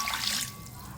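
Strained chicken yakhni stock pours into a pot in a short liquid trickle and splash, clear and close, then fades within a second.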